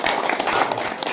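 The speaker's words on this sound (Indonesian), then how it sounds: "Kita beri tepuk tangan dulu untuk Juliana" An audience in a classroom setting gives a short burst of dense applause, loud and close, filling the whole moment without pause.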